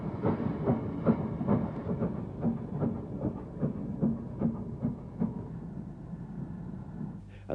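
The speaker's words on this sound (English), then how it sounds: "This standard Class 5, number 73137, was one of the class to be fitted with capote valve gear." British Railways Standard Class 5 steam locomotive 73137, fitted with Caprotti valve gear and hauling a northbound freight, passes with a rhythmic clickety-clack of wheels over rail joints that gradually fades as it draws away.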